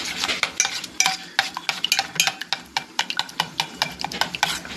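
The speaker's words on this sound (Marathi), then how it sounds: "चांगलं फेटून घ्यायचं." A batter of gram flour and yogurt is whisked briskly in a bowl, producing a steady run of quick, sharp clicking strokes close by, with no talking.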